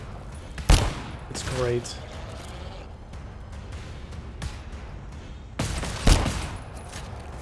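High caliber pistol shots ring out in GTFO, two loud sharp blasts several seconds apart with a brief burst of talk between them.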